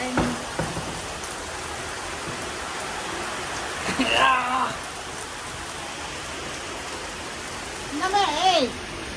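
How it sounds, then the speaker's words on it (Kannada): Heavy rain pours down in a steady, dense hiss of drops on surfaces, loud and continuous, with a voice speaking briefly now and then. "ಮಳೆ ನೋಡಿ ಎಷ್ಟು ಜೋರ್ ಬರ್ತಿದೆ."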